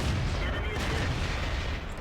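Tank cannon shots in World of Tanks, a continuous loud barrage of booming gunfire and rumbling impacts that fills the whole stretch without a clear pause.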